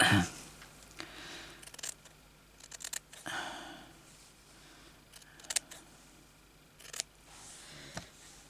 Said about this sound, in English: I'm going to cut the red bit off.